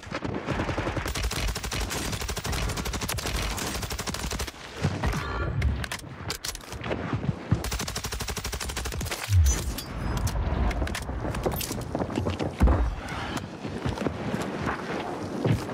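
Rapid bursts of automatic gunfire in the shooter game Warzone 3, mixing nearby and more distant exchanges with dense rattling volleys and sharp single shots over steady background noise, loud and continuous, with no talking.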